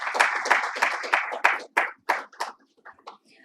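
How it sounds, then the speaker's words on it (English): Audience at a safer-streets conference applauds for Raahgiri Day, a short burst of close, sharp clapping that thins into a few scattered claps and fades out. "So a big round of applause for the Raahgiri Day"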